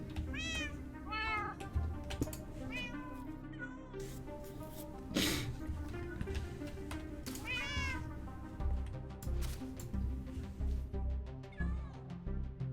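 Cat meows from a Minecraft video game, a few short rising cries repeated in bursts over steady background music and game ambience, fairly clear and up front.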